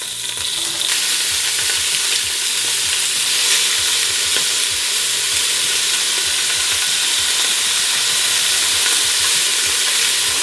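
Chunks of beef chuck sear in smoking-hot avocado oil in a pan. A loud, steady sizzle runs throughout, with occasional stirring scrapes and no voices.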